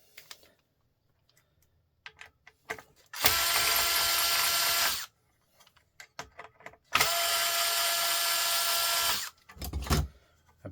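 A cordless drill backs screws out of a main board in two long whirring bursts, each about two seconds, with scattered clicks and handling taps between them, close and loud, no talking.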